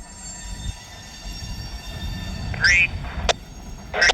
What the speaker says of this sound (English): Just moved the train for the weed sprayer to do his job.